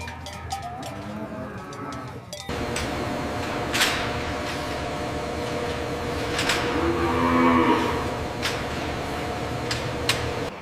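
On a large dairy farm, Holstein dairy cows give a low, drawn-out moo at mid-distance, set against a steady barn hum with scattered clanks and knocks around it.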